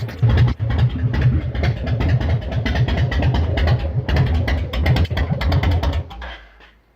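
A Yamaha Roadstar chopper's cold engine turns over and settles into a loud, steady, throbbing idle with rapid low pulses close by, then cuts off and fades at the end.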